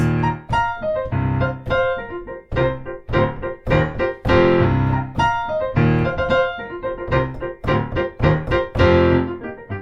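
Solo piano plays a flowing melodic passage from a rock prelude, with sustained notes bleeding into the next phrase, steady and close.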